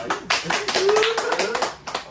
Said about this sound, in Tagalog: Palakpak mo na mga audience